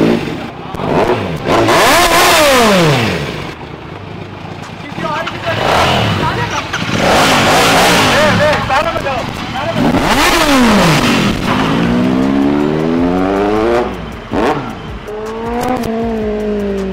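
A Kawasaki Z900 motorcycle engine revs hard again and again on a test ride, loud and close, its pitch rising and falling through the gears, with people talking over it.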